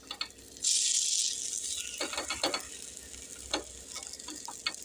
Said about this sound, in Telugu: ఇవి ఫ్రై అయిపోయింది ఇవన్నీ ఇలా మళ్ళీ సెకండ్ వైపుకు తిప్పేసుకోవాలి